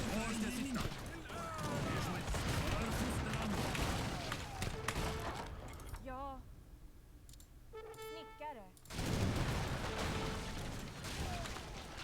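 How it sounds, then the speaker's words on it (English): Rapid crackling volleys of infantry guns and Gatling fire in an Age of Empires III: Definitive Edition battle, dense and continuous with clicking game effects, easing briefly into a quieter patch with chimes before the gunfire resumes. "I'm taking them down with my infantry guns."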